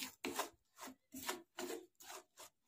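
A spoon stirs melting sugar in a pan on a gas stove, making about six quick, evenly spaced scraping strokes, close and fairly soft, with short pauses between them.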